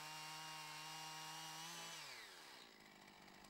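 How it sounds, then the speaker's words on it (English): Chainsaw held at full throttle while cutting into a tree trunk, a loud steady whine whose pitch drops as the chain bogs into the wood, then settles into a rough, lower churning buzz as the cut continues. "You make the felling cut like this."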